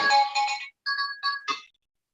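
A mobile phone ringtone goes off in a quiet council meeting room, a short melodic electronic jingle of several bright tones in quick bursts, clear and alone with no talk over it.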